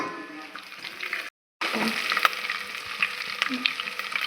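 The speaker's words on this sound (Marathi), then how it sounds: "यात मी कढीपत्ता टाकत आहे आता" Curry leaves drop into hot oil already crackling with cumin and garlic, producing a close, continuous sizzle and spatter with brief pops, interrupted by a short gap of silence.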